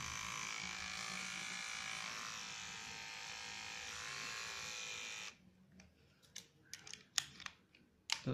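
A repaired electric hair trimmer's motor hums with a steady high-pitched buzz for about five seconds, then stops, followed by a few faint clicks and handling taps.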